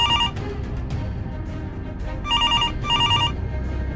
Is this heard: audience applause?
no